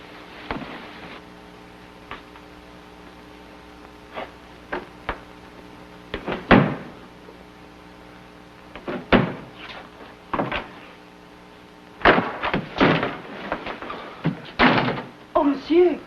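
In an old western adventure series, a door is forced open with a string of heavy wooden thuds and bangs, sparse at first and then clustered near the end, mixed with voices.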